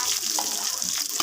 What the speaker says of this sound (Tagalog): mahiwagang bawang sa kumukulong mantika